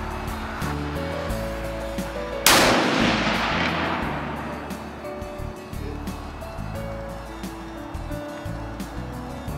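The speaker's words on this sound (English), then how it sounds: "I'm going to go ahead and take another shot here and hope that we're right on the bullseye" One big game rifle shot rings out at a 100-yard range while sighting in for the bullseye. A single sharp, loud blast is followed by a long fading echo, with quiet range noise before and after.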